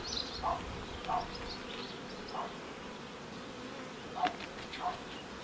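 Honeybees work the frames of a hive body filled with foundation during a honey flow, a faint steady buzz with a few brief louder passes of single bees near the microphone.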